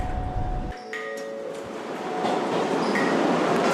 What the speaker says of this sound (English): the next Red Line train to Braintree is now arriving.